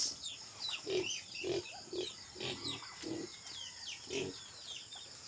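Young pigs grunt in short, regular bursts close by on a farm, with birds chirping and twittering in the background.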